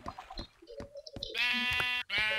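Sheep in the Minecraft video game bleat in a few short, close cries that lead into longer, loud, wavering bleats, with no talk.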